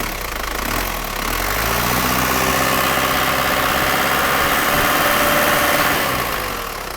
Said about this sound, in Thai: เดี๋ยวเร่งเครื่องให้ฟังเสียงกัน